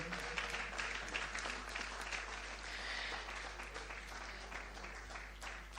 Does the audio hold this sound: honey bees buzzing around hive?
no